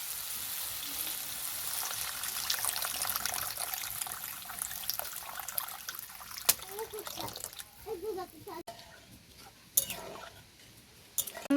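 Water poured into cooked, oil-separated masala for a rui fish curry, a steady splashing sizzle with bursts of spluttering toward the end, heard close under a speaking voice.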